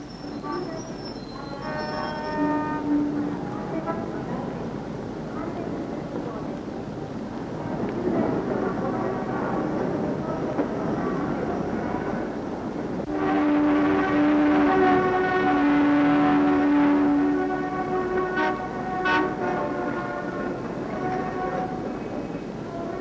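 Busy Tokyo street scene in 1953, a dense wash of traffic and city noise with a passing train rumbling through, and horn or whistle tones rising loudly midway before easing off.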